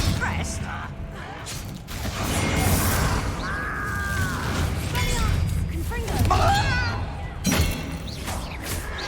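Hogwarts Legacy combat in a mine with the Confringo fire spell: heavy thuds, crashes and shattering impacts mixed with mechanical clatter and whooshing effects, loud and busy, with voices talking over parts of it.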